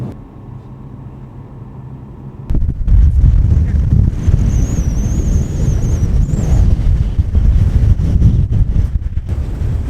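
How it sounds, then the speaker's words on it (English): Strong wind buffets the microphone on a mountain road in West Iceland near Kirkjufell, a loud continuous low roar that starts suddenly and gusts steadily, with a faint high whine over it. "You see how windy it is."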